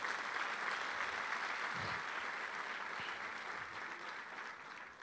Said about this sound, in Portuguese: Aplauda o Senhor se você crê nisso.